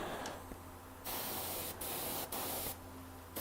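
Aerosol spray paint applied to a prop baton or Mjolnir piece in short hissing bursts, four close spurts of varying length separated by brief pauses, no talking.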